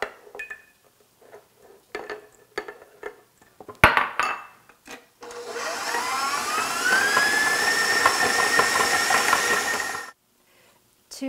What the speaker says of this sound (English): I'm gonna run this processor, KitchenAid right here, or you can put it in your food processor